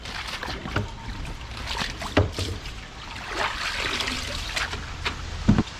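Collected rainwater trickling and sloshing nearby on a rainy day, with a continuous watery flow broken by a few louder drips and splashes.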